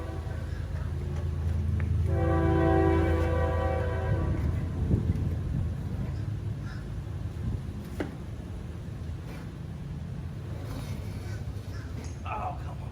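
A train passing in Titusville, Florida, sounding a loud sustained horn blast early on, then a steady rumble of rolling cars continuing alongside faint outdoor noise.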